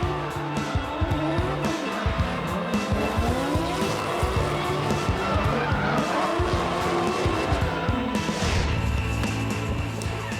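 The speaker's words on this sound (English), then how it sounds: "It's a pair of RBs here with Nico Reed and the Evergreen Tyres Nissan S15 coming through with a fantastic chase run to take victory into the top 8." Nissan S15 and other drift cars on a chase run at a D1NZ drifting round in Tauranga, engines revving continuously with loud, sustained tire squeal throughout.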